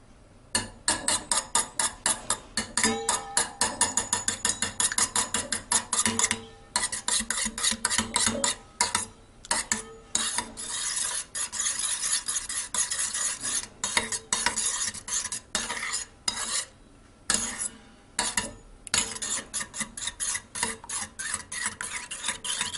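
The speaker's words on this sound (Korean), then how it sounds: "달걀 3개를 그릇에 깨서 잘 풀어줍니다." Three eggs are beaten with a utensil in a bowl for a simple Korean green-onion egg soup, giving fast rhythmic clicking and tapping strokes close up with a few brief pauses, and no talking.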